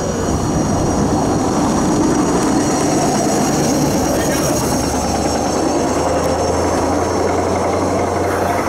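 A CSX Q410 freight train passes close by in the Richmond, Virginia area with a steady, loud rumble and roar of rolling cars that holds without a break throughout.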